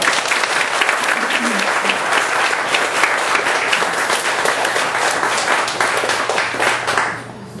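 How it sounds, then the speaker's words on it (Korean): A church congregation gives a sustained, loud round of applause to welcome a missionary serving in Kazakhstan, dense clapping filling the room for about seven seconds before tapering off at the end. "우리 선교사님 나오실 때 우리 격려의 박수 한번 드리십시다."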